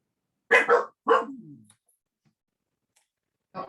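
A dog barks a few times close by: two quick barks, a third trailing into a brief growl or whine, then silence before one more bark at the end.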